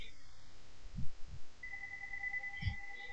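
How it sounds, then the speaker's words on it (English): A telephone rings during a Minecraft play session, a steady electronic tone holding behind low thumps from the game, fairly faint and alone with no talk over it. "Great, the phone's ringing."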